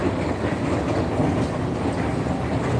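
A New York subway 4 or 5 express train rolls along with a steady rumble and rattle of wheels on track, heard loud from inside the car.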